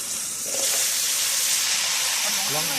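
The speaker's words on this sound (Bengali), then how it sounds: "তেল গরম হয়ে গেছে বন্ধুরা এখন দিয়ে দেবো পটল" Pieces of pointed gourd (potol) dropped into hot oil set off a loud, steady sizzling hiss that holds throughout, with a faint voice audible in the background.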